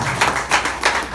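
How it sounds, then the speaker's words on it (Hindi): An audience at a training session claps, giving a few quick, rhythmic claps close by. "आरटी 1 मिनट तालियां यार रिंकू की"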